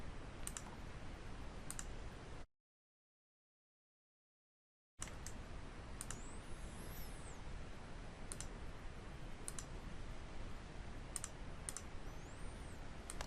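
Crisp computer mouse clicks sound in a quiet room, scattered singly and in quick pairs, with a short stretch of dead silence partway through and no talking.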